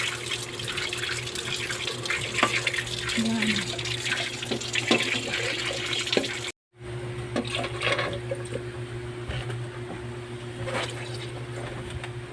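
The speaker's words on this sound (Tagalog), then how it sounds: "So, maglalagay na ako ng tubig." Water running steadily from a tap, splashing and filling a pot for several seconds, with a brief pause and a short spoken word.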